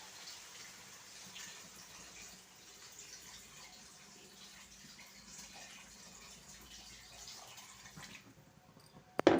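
Water splashing and pouring steadily into a pot of masala-coated mutton curry for several seconds, moderately quiet, ending with a sudden loud clatter.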